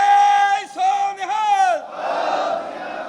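At the Chhapar fair in Punjab, a political rally crowd answers a Sikh jaikara call. One strong voice leads the chant, then a broad, loud crowd roar swells and holds for over a second.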